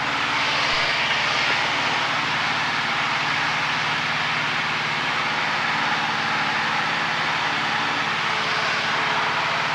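A light training aircraft's engine drones loudly and steadily throughout in flight, a constant close roar with no pauses and no audible speech.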